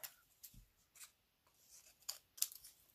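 Scissors make a few faint, soft snips and rustles while cutting a sheet of glittery paper in two, with quiet handling noises between the cuts.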